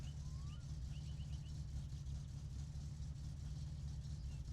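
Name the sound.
car engine running in My Summer Car video game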